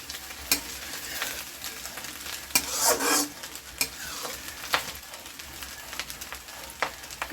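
Chicken fried rice being stir-fried in a pan, a steady close sizzle broken by scraping and tossing strokes, with a louder burst of frying around the middle.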